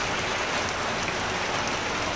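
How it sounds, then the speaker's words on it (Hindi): Heavy rain mixed with falling hailstones during a northern mountain storm, a dense, steady hiss and patter that continues unbroken with no voices. "बहुत ज़्यादा बारिश हो रही है और ओले गिर रहे हैं"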